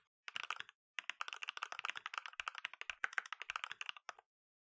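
A computer keyboard clacks rapidly, its sound boosted by a key-sound app, in bursts of quick, crisp keystrokes with a short pause near the start, close and fairly quiet, with no one talking.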